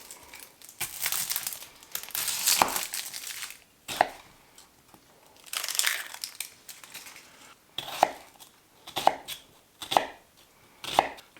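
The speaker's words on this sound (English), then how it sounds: "I like to dice these kind of small. I don't want big chunks of onion." A knife dices half an onion for corned beef hash, producing crisp, irregular chopping strikes that come in quick bursts and then settle into spaced, sharp single cuts, close and clear with no talking.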